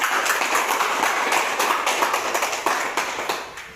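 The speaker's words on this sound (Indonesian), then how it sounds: "Tepuk tangan untuk kelompok 2." Classroom applause for a student group, a dense burst of many hands clapping steadily close by, fading slightly toward the end, with no talk over it.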